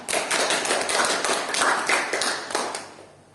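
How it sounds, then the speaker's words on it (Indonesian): Classroom students clap for a student group after its presentation, a brief burst of close, dense hand claps with a few sharper taps, fading out at the end. "Beri tepuk tangan untuk kelompok 3."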